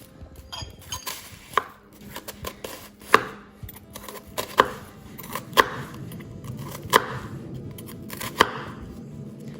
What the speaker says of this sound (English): then we can put it down and we just slice